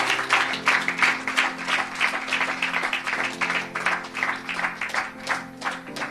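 A church congregation claps and cheers together, a sustained wash of applause that holds steady throughout with a faint musical tone underneath.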